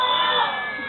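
A zoo audience at a sea lion display shouts out an answer all at once, a short burst of mixed voices, children among them, fading quickly after the first instant.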